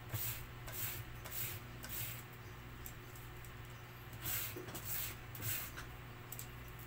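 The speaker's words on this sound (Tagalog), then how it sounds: "Dadaanan lang natin ang pinong liha." Soft, faint rubbing strokes of fine sandpaper repeat in a loose rhythm, close by in a quiet room, while working on a sofa cover.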